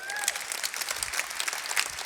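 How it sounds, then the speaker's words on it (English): Applause from an audience of marketers fills the room, a dense crackle of many hands held at a steady level for about two seconds with no one speaking over it. "let's clap it up for these guys"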